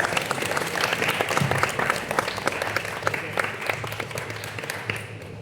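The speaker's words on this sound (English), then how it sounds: "let's give them one big round of applause." An audience at a design showcase event breaks into applause, dense continuous clapping at a strong, even level that carries on for several seconds before easing off slightly at the end.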